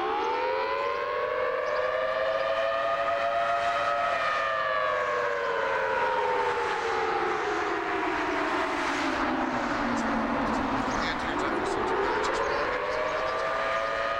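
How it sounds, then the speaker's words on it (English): Air raid sirens wail near Shuwaik port in Kuwait City, a loud, continuous tone that slowly falls in pitch and then rises again, sounding without any voices. "Let's listen into the sirens."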